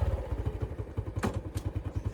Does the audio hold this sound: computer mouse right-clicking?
no